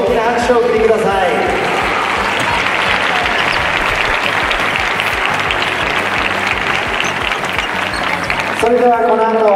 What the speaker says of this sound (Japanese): 改めて両選手に大きな拍手を送りください。